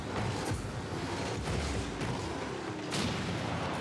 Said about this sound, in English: Oh, we got explosions.